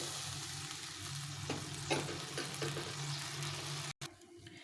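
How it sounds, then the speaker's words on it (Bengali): Water poured into a pan of cooking pumpkin for a sour pumpkin curry sets off a continuous hiss of sizzling and bubbling simmer. There are a few soft stirring knocks, and a brief cut near the end. "এখন আমি বেশ কিছুটা জল দিয়ে দেবো"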